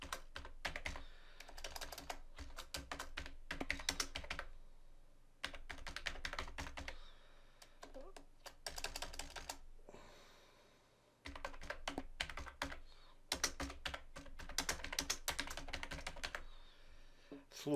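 Rapid typing on a computer keyboard clatters in close, dense bursts separated by short pauses, key clicks running quick and irregular across the stretch.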